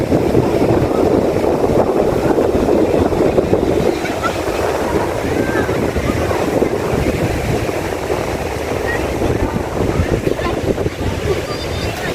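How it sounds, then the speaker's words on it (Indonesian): Sea waves break and wash continuously at Gondariah beach in Pariaman, West Sumatra, during the afternoon high tide. The surf sounds loud and close and is mixed with strong wind buffeting the microphone. "kelihatan ombaknya cukup besar"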